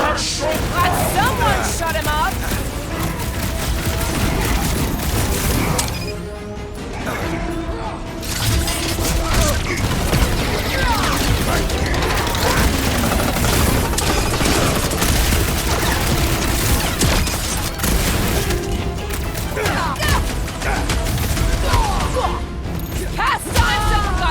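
Dense, continuous battle racket in the video game Marvel's Guardians of the Galaxy on PC: rapid fireworks-like blasts, booms and crashes pile up nonstop, loud and close, with a brief lull near the middle.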